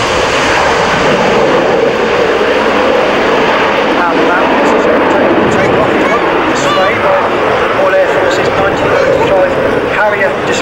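A Jaguar jet flies a slow roll at 500 feet during the 1995 Leicester airshow, a loud continuous engine roar sustained throughout, with a commentator talking over it.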